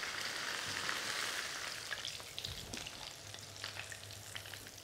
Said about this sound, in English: fry them off again just before you start making the sauce to wrap around. Second fry.